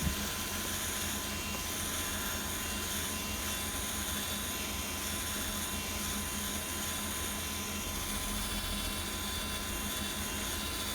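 Rotary polisher with polishing pad working on a 2014 Ford F150 headlight, a constant loud droning motor whine with no breaks.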